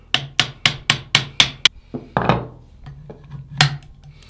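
A hammer taps a plastic punch into a Thompson/Center Encore or Contender gun frame, with six or seven quick, evenly spaced sharp knocks, then a scraping rub and one final strike, close and clear with no talking.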